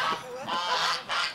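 Turkeys on a farm give loud, close calls in three honking bursts, harsh and rough in tone, with no voices over them.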